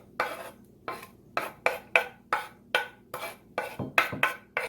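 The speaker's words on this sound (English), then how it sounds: "Wheat gluten, and we're going to start mixing that right on up." A spoon stirs a vegan burger mix of wheat gluten and chopped onion in a bowl, making a series of about a dozen scraping, clinking strokes in a steady rhythm, close and clear, with no talking.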